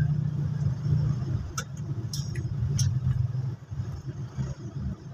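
Road traffic in San Carlos City, Pangasinan, passes as a steady low rumble of car engines nearby, with a few brief higher clatters and a vehicle revving, heard fairly quietly with no talk.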